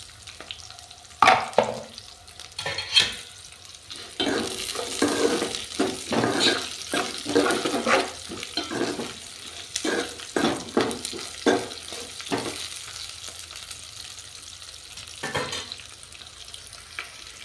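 Dried red chillies fry in hot oil for a tomato-stuffed brinjal and gongura curry, giving a steady crackling sizzle broken by sharp scraping stir strokes, close and moderately loud throughout.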